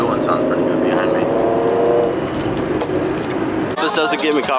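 A sports car engine rumbles steadily at a luxury dealership car show, loud and nearby, with voices and crowd noise mixed in around it.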